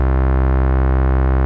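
A sustained synth note from the P565 Siren with distortion mixed at half wet, dense with harmonics and holding at an even level before cutting off sharply, with no talking.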